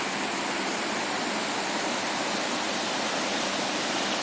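Water flows steadily into Pampāļu Pond in Latvia on an early morning, a dense continuous rushing wash that stays loud and unchanging throughout, with no voices.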